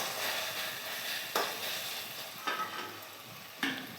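Spice masala with tomato sauce sautéing in a pan for an egg curry, a dense steady sizzle with three distinct spatula scrapes spaced about a second apart.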